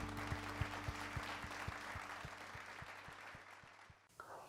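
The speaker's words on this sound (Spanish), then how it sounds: "aplaude muy fuerte al Rey de Reyes, a Jesús" Church congregation applauding loudly for Jesus, dense steady clapping with a low rhythmic musical pulse underneath, tapering off near the end as a voice begins.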